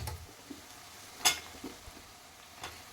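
Okra and onions frying in a pan on the stove, a soft quiet sizzle with a few light stirring clicks and one brief sharp scrape of a utensil.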